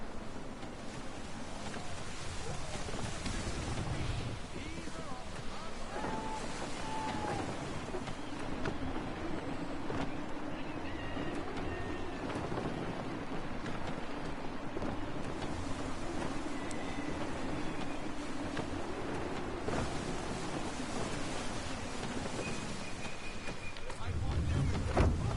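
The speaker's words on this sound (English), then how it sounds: "Gusty winds can be difficult to manage." Gusty wind and water wash while a sailing ship moves through the sea in the video game Assassin's Creed III, a steady broad whoosh with faint creaks, as people talk over it.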